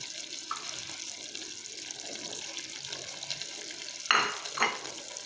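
Masala fish curry sizzles steadily in a kadhai over high flame as the water cooks off, a soft continuous crackle with a louder scrape or clatter near the end; no talk.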